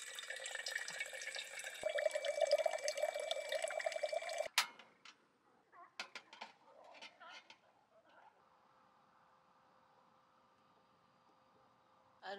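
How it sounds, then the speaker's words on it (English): Water gushes from a hand-pressed pump station at a campsite, a close, hissing flow that cuts off abruptly, then gives way to a few scattered clicks and quieter background. "Just press the pump and then the water will come out."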